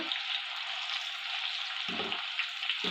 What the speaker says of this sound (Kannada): ಚೆನ್ನಾಗಿ ಫ್ರೈ ಮಾಡ್ಕೊಬೇಕು ಮೀಡಿಯಮ್ ಫ್ಲೇಮ್ನಲ್ಲೇ ಇಟ್ಕೊಬೇಕು